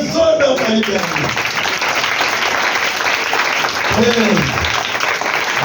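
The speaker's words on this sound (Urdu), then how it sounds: "زوردار تالی بجائیں۔" Church audience at an Urdu/Hindi sermon applauding loudly, a dense, sustained wash of clapping, with a voice briefly calling out over it at the start and again near the end.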